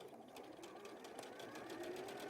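A sewing machine runs in a rapid, steady stitching rhythm while sewing the trousers of a fabric toy rabbit. The needle pulses are close and moderately quiet.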